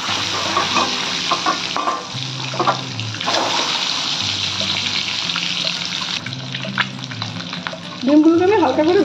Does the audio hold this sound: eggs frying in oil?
yes